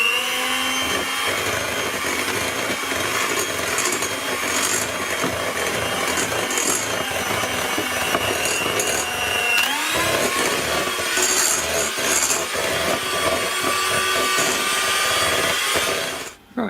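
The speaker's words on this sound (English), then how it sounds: "I'm just going to use a hand mixer because I'll get a better consistency" Electric hand mixer whipping eggnog cookie frosting, a steady high motor whine that runs without a break for the whole stretch, close and loud, with a brief pitch shift midway and a cutoff at the end.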